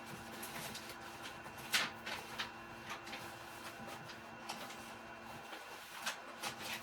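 Soft mechanical whirring and shuffling from a DTF printer feeding Yamation DTF film, with occasional clicks and light bumps over a steady hum; no talking.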